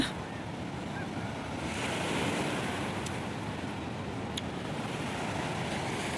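Sea waves washing against a rocky shore, a continuous broad roar of surf with a slight swell midway, mixed with wind buffeting the microphone and no speech.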